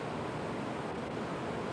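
Storm wind blows outside the Riviera on the Las Vegas Strip in 1995, a steady roaring rush of gusting air buffeting the microphone, broad and unbroken throughout.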